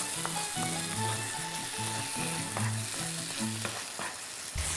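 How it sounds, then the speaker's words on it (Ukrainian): Pumpkin frying in a pan with onion and garlic for pumpkin risotto, a loud, constant close sizzle with stirring scrapes and rhythmic tonal clinks of a utensil against the pan. "додаємо сюди безпосередньо наш гарбуз. І просмажимо все разом."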